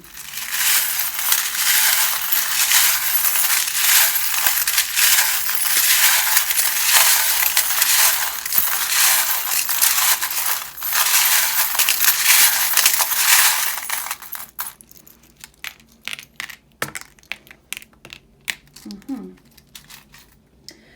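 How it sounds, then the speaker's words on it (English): Small metal charms shuffled for a tarot reading in a dense, continuous jingling rush for several seconds, then scattered clinks and rattles as the shuffling slows. "if you don't like the sound of the charms being shuffled, then turn down your volume now"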